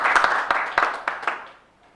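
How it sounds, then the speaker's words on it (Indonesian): An audience at a televised political discussion forum claps for a speaker, a dense burst of applause that is loud at first and then thins and fades away within two seconds. "Tepuk tangan buat Pak Kamar Samad."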